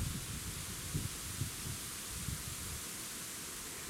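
Strong wind buffets a river island on the Desna, a steady broadband roar with low rumbling gusts close to the microphone, no voices.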